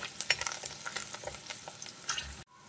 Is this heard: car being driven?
no